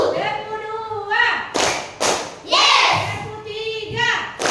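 Children clap their hands in a counted classroom rhythm, sharp broadband claps arriving in short bursts between a teacher's voice leading the count aloud.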